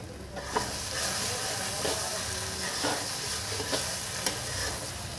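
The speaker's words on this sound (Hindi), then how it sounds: "अब ये मसाला भून के बिल्कुल तैयार हो गया" Masala roasting in a pan for aloo dum gives a continuous close sizzle and hiss, marked by occasional sharp scrapes and taps as it is stirred.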